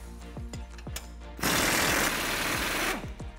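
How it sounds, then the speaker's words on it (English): A socket and wrench work loose the lower 18mm bolt of a sway bar link on a Jeep JL Wrangler, giving a loud, steady mechanical buzzing rattle for about a second and a half between quieter clicks. "The lower one's gonna use an 18mm socket and an 18mm wrench on the other side."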